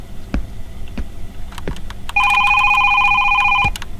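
An old-style telephone bell rings in a horror video game, a steady two-second trill starting midway over faint ambient hum, with a couple of soft clicks before it.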